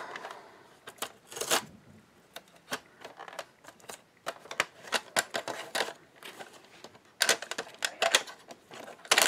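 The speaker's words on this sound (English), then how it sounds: "we're going to score these edges so that it can fold nice and easy" Tyvek-covered binder edges being scored with a tool, a run of sharp dry clicks and scrapes in irregular bursts, close and fairly quiet with no talking.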